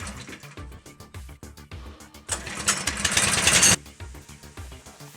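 A Harbor Freight sawmill blade cuts through a log while squaring it into a beam, a rhythmic mechanical chatter that swells into a loud, dense rasp for about a second and a half before easing back to the steady running drone.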